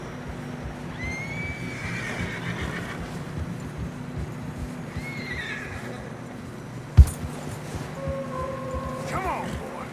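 Horses neigh and whinny in Red Dead Redemption 2 while riders cross fresh snow on a narrow trail, with rising whinnies over a steady low rumble, a sharp thud near the end, and voices talking intermittently.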